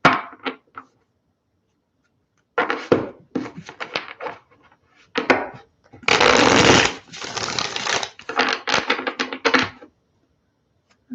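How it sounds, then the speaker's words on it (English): Bursts of card shuffling from a tarot deck, several riffling runs separated by short pauses, close and crisp, with one longer, louder flurry near the middle. "let's do one more good shuffle, maybe one more."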